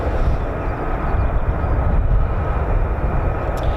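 A Lockheed F-35B fighter jet taxis at RAF Lakenheath, giving off a loud, steady, broadband jet roar that holds without a break throughout.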